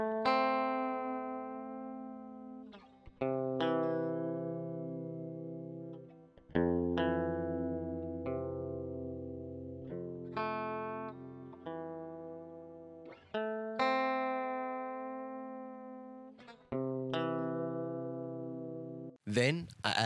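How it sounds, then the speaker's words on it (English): Stratocaster electric guitar playing a single repeating riff of picked notes and chords with some effects coloring, steady phrases that each decay before the next, close and fairly quiet throughout. "I started the song with just this one riff, and I built everything else out around it. And I used my Stratocaster for this."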